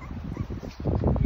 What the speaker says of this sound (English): so these are the Riley Austin puppies